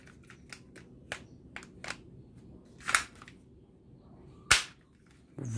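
Toy capsule detonator guns firing, a series of sharp snapping clicks and two louder cracks at irregular intervals, close and isolated against a quiet background.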